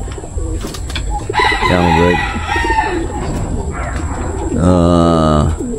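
Young racing pigeons in a loft, with a chorus of close cooing and bird calls in bursts and some louder crowing-like calls over a busy background.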